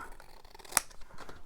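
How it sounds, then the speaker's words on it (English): A single sharp snip of scissors cuts through a quiet room, crisp and close, with faint rustling around it. "Big scissors."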